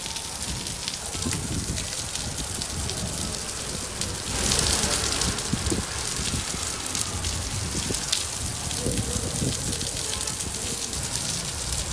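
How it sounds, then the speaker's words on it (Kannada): Continuous light drizzle patters steadily on surfaces in Dharwad, an unbroken hiss that swells briefly midway, with no talking. "ಕಳೆದ 2-3 ದಿನಗಳಿಂದ ಸುರಿತಾ ಇರುವ ನಿರಂತರ ಜಿಟಿ ಮಳೆ"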